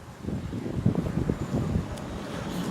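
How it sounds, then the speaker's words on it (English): Wind gusts steadily outdoors, producing a low, rumbling buffeting against the microphone that rises and falls without pause. "I wish it wasn't so damn windy out."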